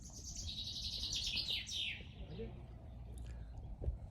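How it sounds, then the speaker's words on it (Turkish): Birds chirp and sing in quick bright trills over a campsite, loudest in the first two seconds and then thinning out, with a low murmur of background noise and faint distant music underneath. "Kuşlarımız da maşallah sesli."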